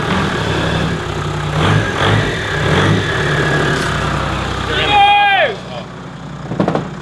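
Toyota 1HD-FTE diesel engine running with a steady, loud rumbling idle up close, followed by a falling whine and a drop in engine noise near the end.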